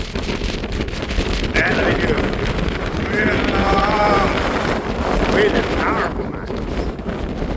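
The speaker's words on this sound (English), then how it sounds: "Oh, wind is powerful." Strong gusting wind roars steadily across the microphone on a mountain trail in Glacier National Park's Two Medicine area, a dense broadband rush that swells and persists throughout, with faint voices partly buried beneath it.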